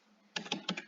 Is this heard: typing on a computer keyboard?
yes